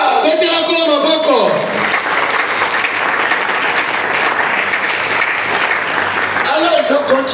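A worship congregation applauds the Lord with sustained, loud clapping for several seconds, a voice speaking briefly at the start and end over the applause.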